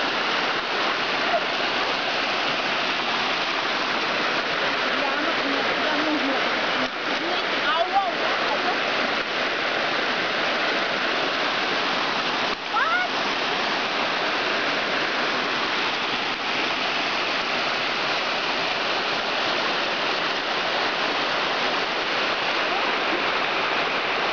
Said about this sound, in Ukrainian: Нарінецький водоспад, до якого ми так довго добиралися хащами. Ось він, красавець.